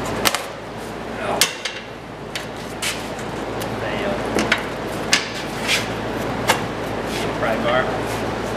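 Sharp metal knocks and pounding while prying a quad rear axle assembly off a Yamaha G1 golf cart, several irregular loud impacts over a steady background with voices talking nearby.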